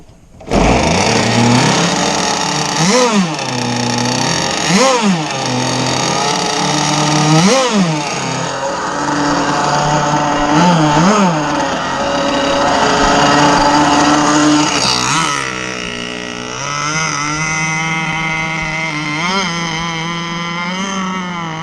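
Zenoah 30cc engine running loud at about three-quarter throttle, its note repeatedly sagging and recovering as it bogs down, then settling into a steadier, slightly thinner drone near the end.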